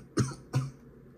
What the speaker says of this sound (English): I did not cough on the cards, I swear.